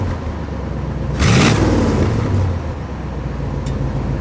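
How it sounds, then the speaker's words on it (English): A 1966 Ford 7 Litre two-door's well-muffled engine rumbles at idle, then gets one quick rev that swells and drops back to a deep, steady idle. "Let's give it a rev"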